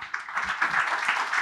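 An audience at a fireside chat claps in appreciation, a steady close patter of many hands at moderate loudness.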